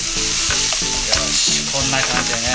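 Minced pork fries hard in a pan with a tablespoon of salad oil, a loud dense sizzle and crackle that fills the clip, with occasional spatula scrapes and someone talking briefly over it.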